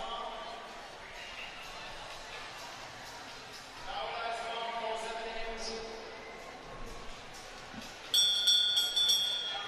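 A bell rings near the end during a race in an indoor arena, a short bright metallic ringing over a background of crowd murmur and commentary.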